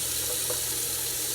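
Tap water runs steadily into a kitchen sink while raw chicken is rinsed, a continuous hissing splash close by with no talk.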